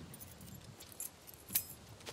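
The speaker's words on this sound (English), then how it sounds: "Here's the keys." A set of keys jangles in a few quick, light metallic bursts, with one brighter clink near the end, close and fairly quiet over soft room noise in a tense film scene.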